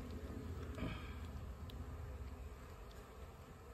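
Faint, steady insect buzzing from a honeybee swarm, a soft continuous hum at low volume with no voices.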